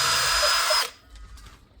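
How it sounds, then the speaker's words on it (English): A power drill bores a pilot hole into a tree stump, a loud close whine lasting under a second before cutting off to quiet handling noise. "First of all, you are drilling the hole."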